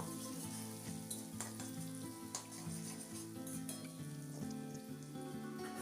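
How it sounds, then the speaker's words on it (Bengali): Garlic frying in a pan with oil, a steady soft sizzle broken by occasional scrapes and clicks of stirring, faint and continuous with a low background hum. "ততক্ষণ পর্যন্ত আমি রসুনটা একটু ভেজে নেব"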